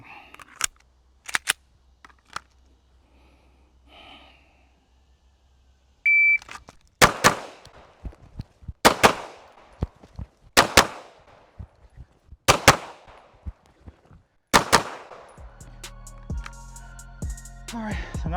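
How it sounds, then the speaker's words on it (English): A Glock pistol emptying its last magazine at a range: a few sharp early shots, then a steady series of loud, evenly spaced reports, ending in clattering, electronic-sounding noise. "We can go ahead and shoot up our last magazine."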